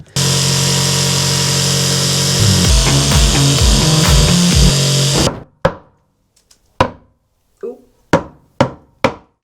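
A loud power saw whines steadily through a cut for several seconds, then stops, followed by a series of sharp knocks and taps.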